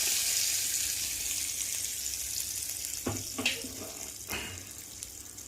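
Asafoetida, mustard seeds and urad dal hit hot oil for a tempering, giving a steady soft hiss with a few sharp crackles and pops near the middle, close and moderately loud with no talk.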